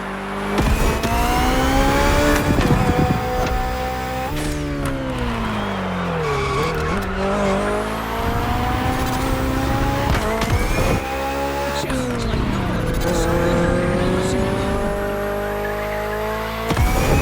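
A BMW hybrid V8 race car in The Crew Motorfest roars loud and close, its pitch climbing and dropping through gear changes as tires squeal, with no talking.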